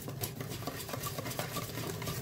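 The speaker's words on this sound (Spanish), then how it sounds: "Hay que batir muy bien para que no queden grumos." Rapid, steady clicking and tapping of a balloon whisk against a bowl while hand-whisking carrot bread batter, continuous and fairly quiet, with no talking.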